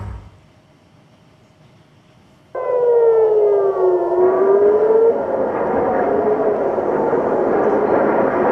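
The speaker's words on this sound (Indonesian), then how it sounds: "Sirine meraung-raung di seluruh Tel Aviv" After a quiet start, an air raid siren suddenly blares across Tel Aviv, its loud wailing tone rising and falling over a broad noisy roar.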